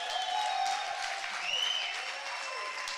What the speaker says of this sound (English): let's clap, actually, clap